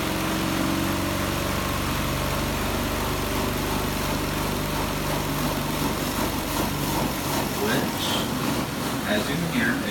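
A washing machine on its spin cycle struggles to drain, giving a steady loud mechanical hum and rumble with a rising whine, with a voice talking over it throughout.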